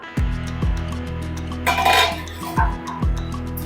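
A pot lid comes off and pithla, a gram-flour curry, gets stirred in the pot on a low gas flame, with several sharp metallic clinks and scrapes of utensil against pot, close and fairly loud.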